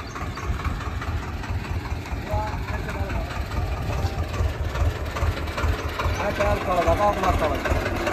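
A Swaraj 724 XM tractor stuck in mud idles with a steady, loud, low rumbling engine throughout, while someone talks over it.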